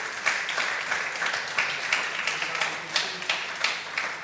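A church congregation claps together in praise, a steady rhythmic beat of many hands, fairly loud and close, with no talking over it.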